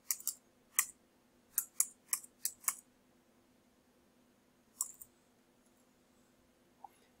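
Sharp computer mouse clicks come in a quick irregular cluster of about eight, then a pause and a couple more isolated clicks, close and crisp against a quiet room.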